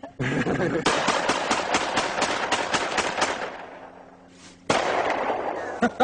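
A homemade gun fires slugs in a forest during target practice, loud sharp shots cracking in rapid succession for several seconds, then a pause and a few more reports, with voices faintly in the background.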